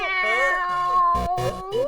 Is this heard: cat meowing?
yes